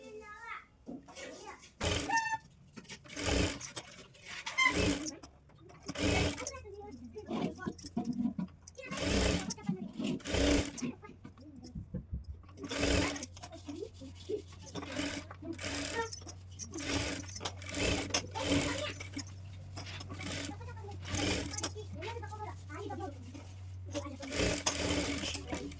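A sewing machine stitches a designer back-neck blouse in short repeated bursts with pauses between runs, a low steady hum beneath, while a person talks throughout.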